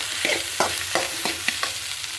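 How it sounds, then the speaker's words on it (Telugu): Cooked rice, fried egg and masala are stir-fried together in a pan for fried rice: a steady sizzle broken by a regular run of quick spatula scrapes and taps, close and moderately loud. "అన్నం వేసేస్తున్నాం ఇప్పుడు ఫుడ్ బాగా ఫ్రై అవుతుంది కదా అన్నం వేసేస్తున్నాం బాగా కలుపుకోవాలి"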